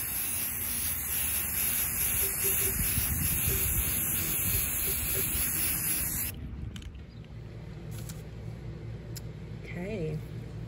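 Gloss white Rust-Oleum spray paint hissing onto a pitcher in a steady close spray for about six seconds, then stopping, with a voice heard around it.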